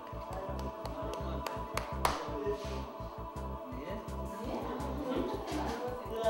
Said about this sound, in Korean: 두 손을 이마 높이에서 맞부딪히는 클런치, 침팬지 박수입니다.